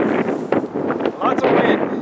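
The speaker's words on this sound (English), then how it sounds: "Lots of wind." Strong gusty wind buffeting the microphone on a windy day at an outdoor RC flying session, a rough roaring rush that swells and dips throughout, with faint speech mixed beneath it.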